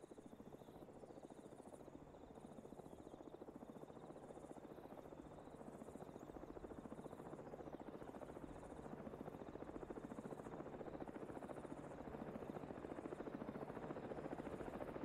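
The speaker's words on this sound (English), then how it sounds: "Definitely a gunship." A video-game helicopter gunship flies over a combat area, its rotor a faint, continuous rhythmic chop that grows slightly louder and stays steady with no voices.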